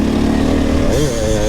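A KTM 350 dirt bike engine, ridden in snow, revs briefly up close with a raspy buzzing tone that climbs in pitch partway through.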